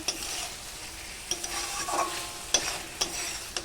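A spoon stirs chichinga posto in a pan as the water cooks off, with several distinct scraping strokes over a soft, steady sizzle of frying.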